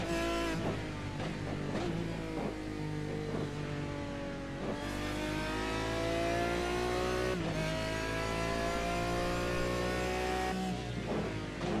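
Race car engines howl around Watkins Glen in Gran Turismo, loud sustained revving with repeated gear changes and pitch drops as cars brake and accelerate, with no talking.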